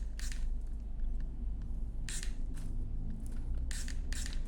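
Brake cleaner for an e-scooter sprayed from a can during a Dualtron Victor tyre change, heard as several short hissing bursts spaced a second or two apart over a steady low hum.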